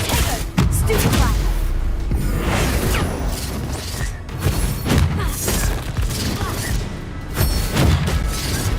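A Stupefy spell cast in Hogwarts Legacy erupts in loud crashing, shattering impacts and booms, repeated across several bursts of close, dense combat noise.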